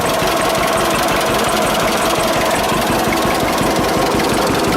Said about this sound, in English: Seems to run pretty good. Definitely a heavy old tractor though, my goodness.